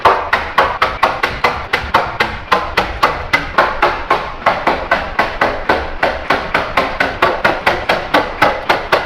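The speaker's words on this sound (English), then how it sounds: "then we'll get the nail gun out and start popping away" A nail gun fastens studs to a wall board while a chicken wagon is built. A long run of sharp, close bangs repeats at an even pace, about four or five every second.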